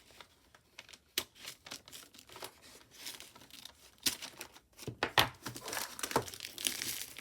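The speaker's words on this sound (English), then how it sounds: "I'm just going to try and pull the paper off." Wrapping paper being pulled and torn off a vintage German box, a close run of crinkling, ripping and rustling bursts that grow louder and busier toward the end, with no talk.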